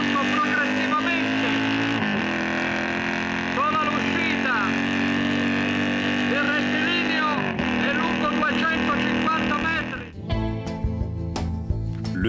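A Gilera racing motorcycle engine pulls hard through its gears, each rising howl dropping back at the shift before climbing again, with a voice talking over it.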